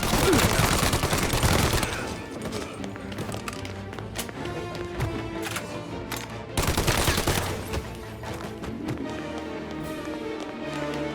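Rapid gunfire bursts crackle during a firefight in the video game Mafia Definitive Edition, loudest at the start and again midway, with scattered single shots and impacts between the volleys.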